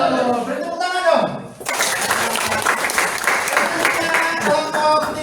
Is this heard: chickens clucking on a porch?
no